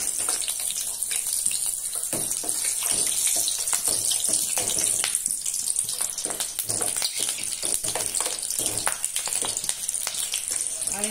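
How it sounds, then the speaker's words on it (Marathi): Punctured green chillies frying in hot oil for palak bhaji, a continuous loud hissing sizzle with bright crackling pops throughout, no talking over it. "हे असं आपण तेलात टाकायचं आणि तळून घ्यायचं."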